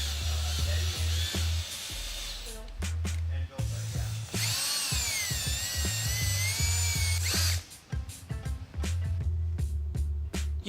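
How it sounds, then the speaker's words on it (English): A power drill on low speed, high torque whirs in short bursts, its motor pitch rising and falling as it drives a screw into a churro, with clicks and handling noises between runs. "Make sure your drill is in its low speed, high torque setting."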